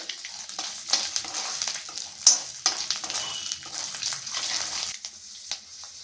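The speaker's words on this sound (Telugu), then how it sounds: "దోరగా వేయించుకోవాలి." Tempering spices, peanuts, dried red chillies and curry leaves fry in hot oil for pudina rice, a steady crackling sizzle with sharp pops and stirring scrapes throughout, no talk.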